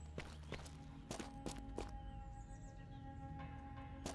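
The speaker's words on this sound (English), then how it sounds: "I was hearing my own character's footsteps that scared the crap out of me." Footsteps of a character in a zombie video game, several soft thuds spaced irregularly over a steady droning game ambience with faint tonal hum.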